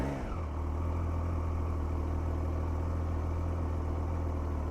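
A Triumph Trident 660 three-cylinder motorcycle engine idles close by, a steady, even low rumble that holds throughout with no voices.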